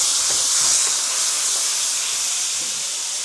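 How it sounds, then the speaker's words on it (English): Fish sauce and sesame oil hit a hot pan for sautéing in a small apartment kitchen, producing a loud, broad hissing sizzle that holds steady and eases slightly toward the end. "And we're just gonna saute that all together."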